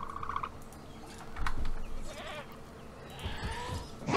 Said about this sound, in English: there's a goat right there.